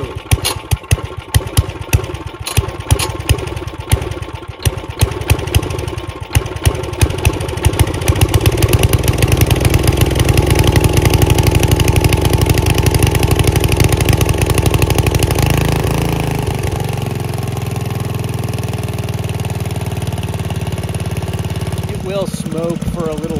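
Rototiller engine that sat all winter starts after several pulls, sputtering and catching, then settles into a steady, loud, close idle with a rattly tone that fades slightly, while people talk over it.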